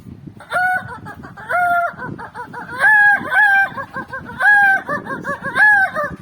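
A rooster crows repeatedly nearby, several loud drawn-out calls with short pauses between them, with faint clucking in the background.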